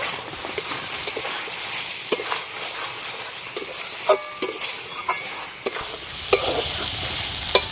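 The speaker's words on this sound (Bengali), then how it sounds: "এবার কাঁকরোলগুলো মশলার সঙ্গে ভালো করে একটু নাড়াচাড়া করে নেব।" Fried kakrol (spiny gourd) being stirred into spice paste in a pan: repeated scraping and stirring strokes over a continuous sizzle, close and moderately loud, with no talking.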